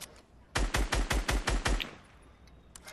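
A burst of about seven evenly spaced video-game gunshots rings out close and loud, followed by a fading tail and near quiet.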